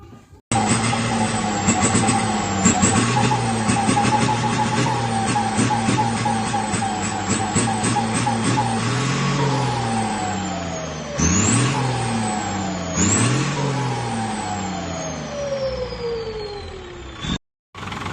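A loud Isuzu 6BD1 diesel engine in a six-wheel Isuzu Rocky truck revs repeatedly, climbing and falling in pitch with sharp throttle blips, then cuts off briefly near the end before restarting.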